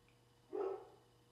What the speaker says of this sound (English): I hope this dog stops barking in the background